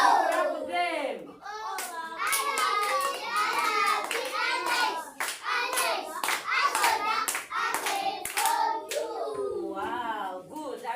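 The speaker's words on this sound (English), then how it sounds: "Clap them." Children in a classroom clap their hands in short bursts while a teacher and kids talk loudly and continuously over the clapping.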